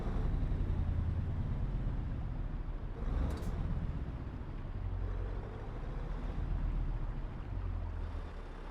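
A truck in Euro Truck Simulator 2 rolls slowly into a parking spot, its engine a steady low rumble throughout with a brief swell partway through, no voices over it.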